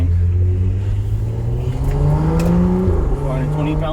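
A stage 2 BMW 335i F30 with full bolt-on mods accelerates hard, its engine note climbing steadily in pitch, shifting once, then climbing again, loud and close from inside the car, with a voice speaking over it.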